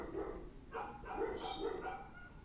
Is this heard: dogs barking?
yes